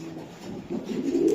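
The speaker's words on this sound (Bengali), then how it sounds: "এটা হলো গিয়ে একটা হোয়াইট রেসার একটা মাদি কবুতর" A white racer pigeon hen, a club-registered 2023 bird, coos once in a brief, low, rolling call up close, swelling slightly toward the end.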